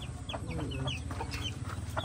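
Small chicks cheeping in a cluster of short, high chirps, close by, with a steady background hum.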